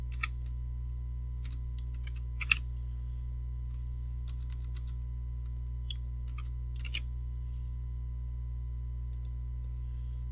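Short name typed on a computer keyboard: sparse, quiet key clicks in small clusters over a steady low electrical hum, close and without talking.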